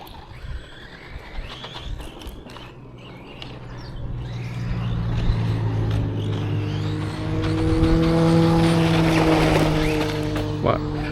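A Hobbytech Rogue RC buggy drives with a buzzing electric motor whine that rises in pitch and loudness toward the end, with people talking over it.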